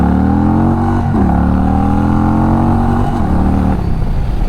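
An Indian Sport Chief RT motorcycle accelerating loudly and close, its engine note climbing steadily through the gears with brief dips at the shifts.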